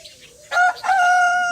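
A rooster crows loudly and close by, one long drawn-out call with a brief break near the start, ringing clearly with no talking.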